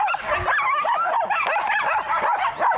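Several dogs kept in farm yards yip, bark and whimper in a continuous, overlapping chorus, close and fairly loud, with no pause.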